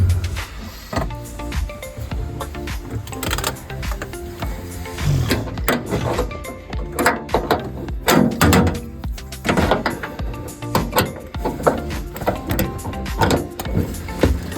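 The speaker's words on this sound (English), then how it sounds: "Taking these bolts out here in the back that hold the drum in for shipping." Adjustable wrench removing the drum shipping bolts from the back of a washer dryer in an RV, with repeated metallic clicks, clanks and knocks over several seconds.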